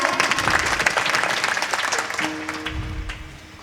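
An audience claps steadily throughout at a kirtan, a devotional singing event honouring a Ganesh festival group, with a low tonal hum entering near the end under the crowd's applause.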